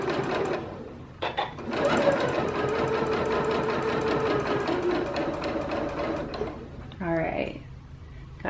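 A sewing machine stitches along knit fabric in a steady run of rapid needle pulses lasting several seconds, with a brief pause and a short burst of talk near the end.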